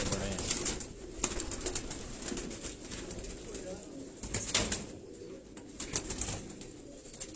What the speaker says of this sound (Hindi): ये जौनसरा ब्रीड के ये कबूतर, ये रानी वालों के नाम से